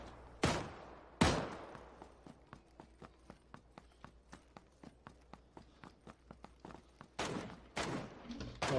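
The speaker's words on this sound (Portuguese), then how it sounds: "Olha os caras nas costas atirando aí." Rapid sharp gunshots from enemies behind the player in a shooter game, a steady string of faint cracks with two louder blasts near the start and heavier shots at the end.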